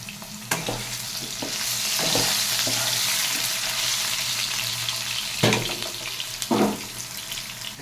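Cut potatoes with dry red chilli, bay leaf, whole cumin and salt fry in a pan with a continuous loud sizzle, broken by a few sharp scraping stirs and clatters near the end.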